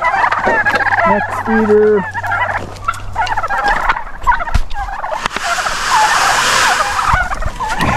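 Turkeys on a farm gobble repeatedly in loud bursts close by, with a person's voice briefly speaking among the birds.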